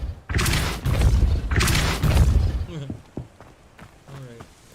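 Depulso spell cast in Hogwarts Legacy during combat: heavy booming blasts and thuds in quick succession, loud and close, followed by quieter clatter and footsteps with a voice speaking briefly.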